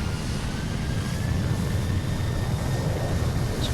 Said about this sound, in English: Listen to those planes getting ready to take off and take their people to where they're going.